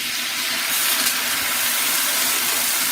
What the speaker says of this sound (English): The liquid is what creates the steam.